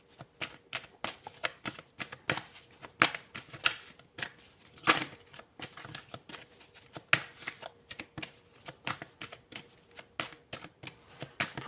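A tarot card being drawn from a deck: a rapid, steady series of crisp papery flicks and snaps, close and moderately loud, with a few sharper slaps, no voices.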